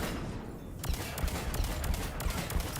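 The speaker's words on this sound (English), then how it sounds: "Freaking shooting the weak spot in the back." Rapid game gunfire in Mass Effect, aimed at a weak spot on the back of an enemy with a small turbine: sharp cracking shots in irregular bursts over a dense, constant battle din.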